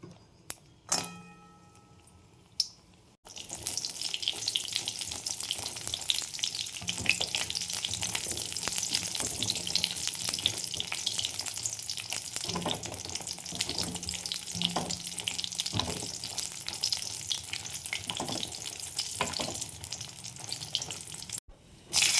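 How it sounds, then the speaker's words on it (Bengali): Bori lentil dumplings frying in hot oil, a steady loud sizzle that starts after a few quiet seconds and runs continuously, with occasional clinks of a utensil against the pan. "বড়ি ভেজে নেব।"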